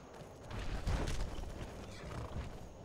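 A horse in Skyrim whinnies once, fairly close and moderately loud, with faint hoof and creaking sounds around it.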